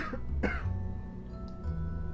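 A person gives a sharp, close cough followed by a rough throat clear, two distinct bursts then quiet breathing noise.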